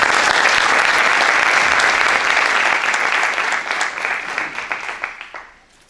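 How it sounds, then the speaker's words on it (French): An audience at the opening of an international congress applauds the organizing and scientific committee, with full, even clapping from many hands that gradually thins into a few separate claps and fades out. "je préfère qu'on applaudisse le comité d'organisation et scientifique"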